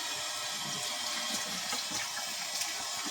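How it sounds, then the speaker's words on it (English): An object from a utility knife build is rinsed under a running tap, a steady close hiss of water splashing with small fluctuations as it is moved in the stream. "Just rinsing it off."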